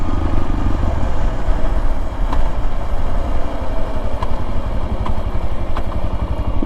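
A Suzuki DRZ motorcycle fitted with an FMF PowerBomb header and a rejetted carburetor idles close by, its loud, steady, even thump running unbroken throughout.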